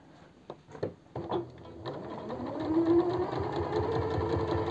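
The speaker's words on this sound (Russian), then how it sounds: "настрочить для того, чтобы она не выворачивалась впоследствии." A sewing machine stitches a seam on a women's vest, starting with a few short clicks and bursts before settling into a steady, close, rapid mechanical whir.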